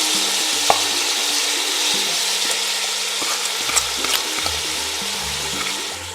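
Chopped onion sizzles steadily in a hot pan alongside other vegetables for a Bolognese sauce, a constant broadband hiss broken by occasional stirring clicks and scrapes.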